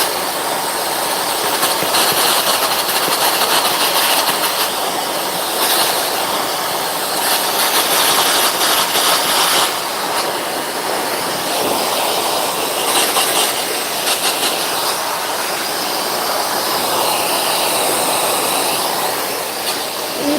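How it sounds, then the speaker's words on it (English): Steady blow dryer used for dog grooming, fitted with a small interchangeable nozzle, running loud and continuous with broad airy hiss that swells and dips slightly as it moves. "I'm always trying to hold the dryer"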